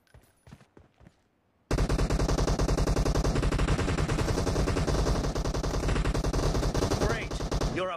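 Rapid automatic gunfire in a team shooting video game: after a few quiet shots and a short lull, a loud, dense, continuous machine-gun burst runs for several seconds.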